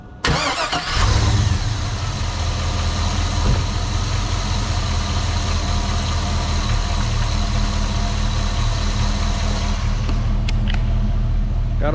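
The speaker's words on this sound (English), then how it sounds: "Let me fire this thing up with the new starter" A GMC truck engine cranks briefly on a new gear reduction starter, then catches and settles into a steady, loud, close idle that runs for the rest of the clip.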